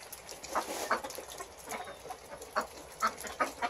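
Soft, scattered quacks and clucks from a few fowl, faint and irregular, with no one talking.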